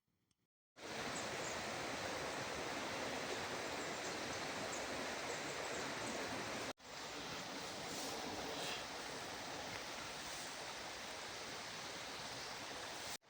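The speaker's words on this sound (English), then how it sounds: "we can see where the mill race rejoins the main Newton" Newton Brook flows past a former mill race, a steady, dense rush of running water that fills the whole clip at an even level, with a brief break partway through and no voices.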